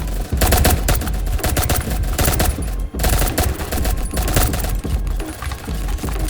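Loud, rapid bursts of automatic gunfire in Ink Game with sharp repeated shots, nearly continuous apart from a brief pause partway through.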